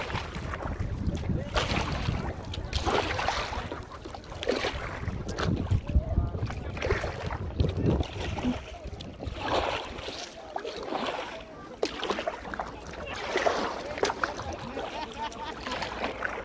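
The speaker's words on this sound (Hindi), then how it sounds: "हमारी भी आप अभी चलाओ बेटा कश्ती, 2 घंटे से मैं चला रहा हूँ, अब आप भी चलाओ।" A small wooden boat is rowed through rain-flooded streets in Karachi, with water sloshing and splashing steadily around the hull and gusts of wind noise on the microphone throughout; voices can be heard talking faintly beneath the noise.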